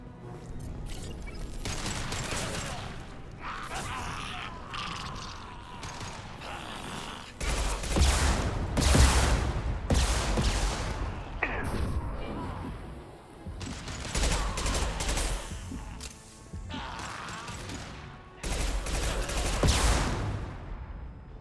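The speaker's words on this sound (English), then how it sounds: "Taking fire." Bursts of gunfire from the video game Mass Effect 2 come in several heavy volleys separated by brief lulls, with mechanical clanks and creaks between the bursts.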